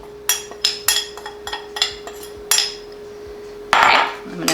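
Utensils clink and scrape against a bowl while stacked Southwestern salad ingredients are mixed, a run of quick close taps followed by a brief rougher stir, with a faint steady hum beneath.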